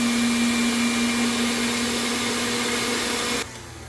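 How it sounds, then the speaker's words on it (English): Electric stand mixer beating a dairy-free chocolate cake batter with margarine, coffee and vanilla, a loud steady motor whir and hum that drops in level near the end as it slows down. "we're going to slow our mixer down"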